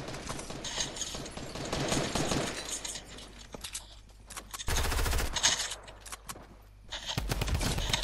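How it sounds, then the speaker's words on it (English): Bursts of drum gun fire in the Fortnite video game, loud rapid automatic volleys that come in separate stretches between quieter moments of movement and clatter. "Oh, he's got drum gun."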